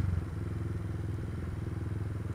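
Motorcycle fitted with an open sport exhaust, idling with a steady, throbbing low rumble at close range, heard alone without talk.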